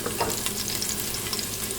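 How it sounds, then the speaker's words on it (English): About two teaspoons of tomato paste frying in a pot for a Haitian stew chicken gravy, giving a steady close sizzle with faint stirring scrapes throughout, no voices. "now we are going to fry up about 2 teaspoons of tomato paste"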